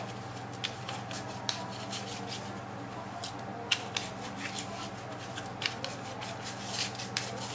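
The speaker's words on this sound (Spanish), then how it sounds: "yo los voy a barajar" Playing cards being shuffled by hand at a table, a series of soft riffling and sliding rustles with light taps, close and fairly quiet over a low background hum.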